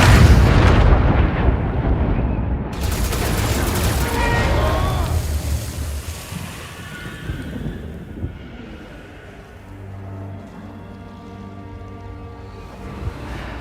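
A large explosion effect from a superhero film, erupting as a loud, broad boom at the start and rolling off into a long rumbling decay, with orchestral music rising underneath toward the end.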